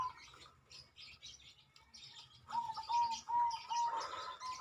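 Zebra dove (perkutut) cooing in a series of soft, rhythmic phrases that grow louder and more frequent toward the end, with faint chirps and background noise between calls.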